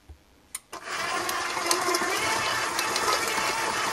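A stand mixer fitted with a flex blade switches on after a couple of sharp clicks and runs with a loud, steady motor whir while mixing ground hazelnuts into a dough.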